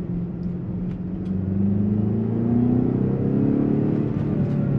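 A BMW X5M with upgraded rear brakes pulls away after a stop, its engine droning low and rising steadily in pitch and loudness as it gathers speed, heard close from inside with no talking.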